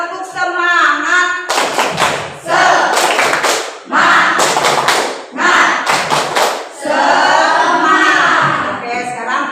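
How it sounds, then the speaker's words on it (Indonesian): A classroom of students performs a rhythmic spirit clap, with loud, close bursts of unison clapping and thumping in patterned runs separated by short pauses, with voices chanting along. "Tepuk semangat."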